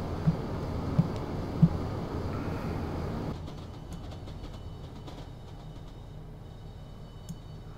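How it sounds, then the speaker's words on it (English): Train running in the video game Train Simulator 2014, a steady low rumble with a few sharp clacks early on, then quieter continuous running, with no talk. "Look at this train go."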